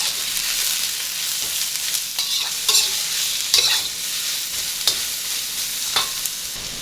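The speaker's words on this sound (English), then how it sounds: "So these onions have been cooking for a couple of minutes" Sliced onions frying in oil for japchae, a steady close sizzle with spoon stirring clatters at intervals, no talking.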